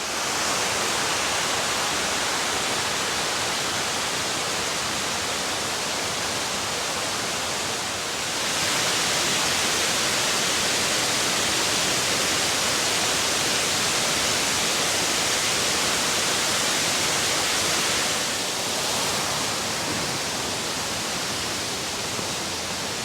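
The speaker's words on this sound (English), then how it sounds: "You see one waterfall and you see another one right behind it." Wyandot Falls at Ricketts Glen State Park roars as a constant, dense rush of falling water, loud and close, with no other sounds for over twenty seconds.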